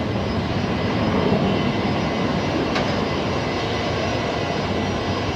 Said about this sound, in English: The Skytrans heading out. The 319 heading off to Darwin today.